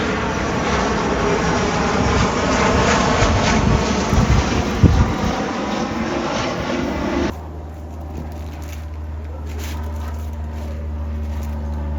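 A loud airplane passes low over a clubhouse pool, a heavy roaring rush with wind buffeting that dominates the first seven seconds, then cuts to a quieter, steady low drone.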